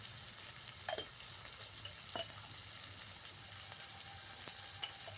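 Ground turmeric, red chilli, coriander and cumin powders with tomato are fried and stirred for a prawn curry over a clay wood-fired stove, with a steady low sizzle and a few soft scraping stirs.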